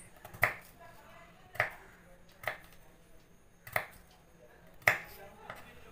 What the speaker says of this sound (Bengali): পেঁয়াজটাকে এরকম করে কেটে নিলাম